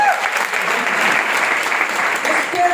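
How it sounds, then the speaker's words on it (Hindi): An audience at an indoor event applauds in a dense, steady burst of clapping that carries evenly through the few seconds. "एक बार इनके लिए जोरदार तालियां।"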